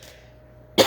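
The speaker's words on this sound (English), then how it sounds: "This is so irritating, this cough." Quiet room tone, then one abrupt close cough bursting at the end.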